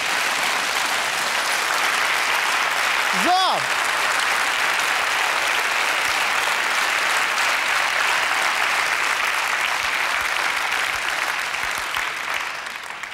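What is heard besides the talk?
studio audience applause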